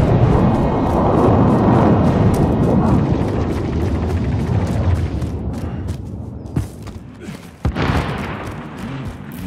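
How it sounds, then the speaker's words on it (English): Precision airstrike in Call of Duty Warzone: heavy rumbling explosions and roaring blasts fill the opening seconds, fading out, followed by a couple of sharp thuds near the end. "friendly precision airstrike inbound"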